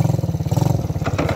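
A 125cc ATV engine revs hard and close, its rapid pulsing putter holding steady throughout with a slight rattle on top.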